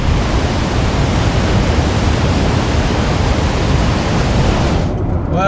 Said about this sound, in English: Greetings from Niagara Falls, USA. I told you I would send you an audio postcard